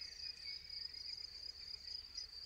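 Crickets trill continuously outdoors in a faint, high, steady chorus with a slight pulsing shimmer, alone without voices.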